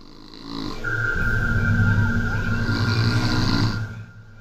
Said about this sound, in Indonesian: Suara dengkuran itu masih saja bisa ku dengar